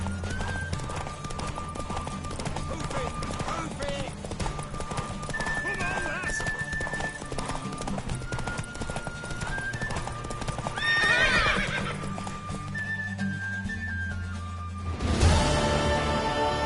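A horse gallops with steady clip-clopping hooves and lets out a loud neigh near the end, in The Witcher 3 video game, with game music and voices running throughout.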